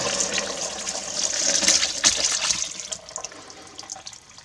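Whey being strained off cheese curds for whey mead, liquid pouring and splashing in a steady gush for a few seconds, close and fairly loud, tapering slightly at the end.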